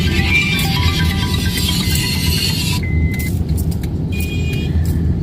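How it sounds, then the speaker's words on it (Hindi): Road traffic in a congested neighbourhood beside an active construction site, with a continuous loud rumble of passing vehicles, some higher whining and clanking tones over it, and no talk. "ट्रैफिक बहुत है हमारे एरिया में, हमेशा ही होता है"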